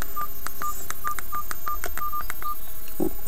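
A run of about a dozen sharp, evenly spaced telephone keypad tones as a number is entered on a Mobiho Classic Initial phone, loud and close with no talk, ending in a short low blip.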